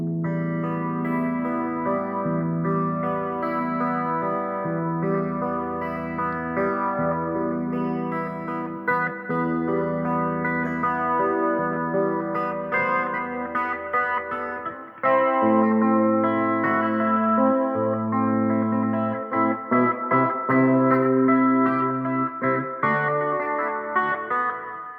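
Electric guitar in a clean tone through a Line 6 amp playing a song, arpeggiated notes and chords ringing with chorus and echo, steady and sustained for the whole stretch, no voices.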